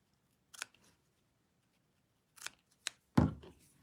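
Scissors trim a paper craft piece for a Stampin' Up! heart shelf sitter, giving four crisp close snips, one early and three grouped near the end, the last the loudest, in a quiet room.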